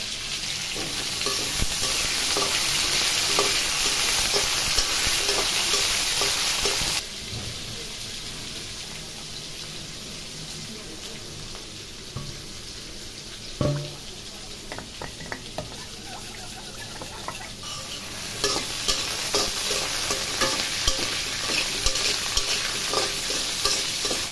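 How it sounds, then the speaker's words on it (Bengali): Potato and vegetable stalks frying in oil, with a steady close sizzle throughout and a brief quieter stretch in the middle, plus occasional stirring clinks. "আর ওইদিকে আমার আলুটা ডাটাটা ভাজা হচ্ছে ওটা ভাজা হতে থাকুক হালকা ভাজবো"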